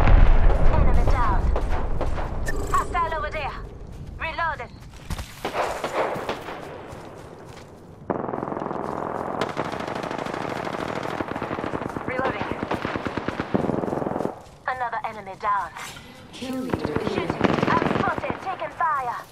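Rapid automatic gunfire from the video game Apex Legends rattles in repeated bursts with sharp shots and brief gaps, loud and close, mixed with game announcer voice lines.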